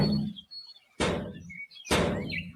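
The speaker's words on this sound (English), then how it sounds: "Let's use the cat cooler as a battering ram." A cat cooler is rammed against a steel door, producing two loud, sharp bangs about a second apart, each with a short ringing decay, preceded by a duller thud.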